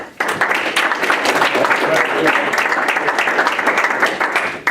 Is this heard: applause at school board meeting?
yes